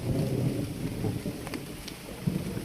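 Rain pours steadily in a forest during a thunderstorm, a continuous loud hiss of falling water with deep rolling thunder rumbling underneath, no voices.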